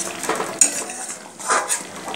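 A lid goes onto a pan of simmering potol (pointed gourd) cooking in milk, a short close metallic clatter and scrape of cookware with faint sizzling beneath, alone without speech.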